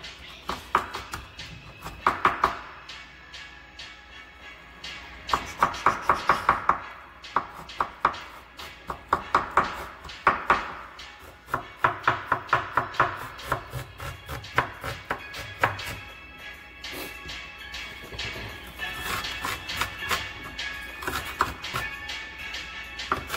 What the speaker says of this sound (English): Cut them up. And into minces. Mince onion.